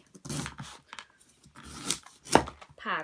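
A sharp knife cuts and pries into a spiky durian husk, giving several brisk chopping and scraping strokes at close range, with a louder crack near the end.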